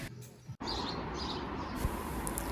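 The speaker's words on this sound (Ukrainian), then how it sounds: "Співають пташки дуже гарно." Morning birdsong at a seaside hotel in Alanya with palms and flowers, faint chirps and tweets scattered over a steady outdoor background hiss, with no talking.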